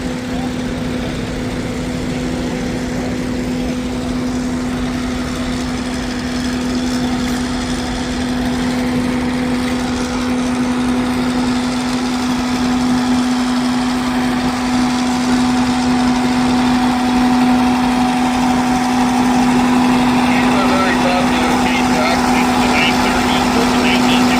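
A 1945 Farmall A tractor engine runs steadily and close by at a vintage tractor show in Westlock, a constant droning hum with a low tone that never changes, with no one speaking over it.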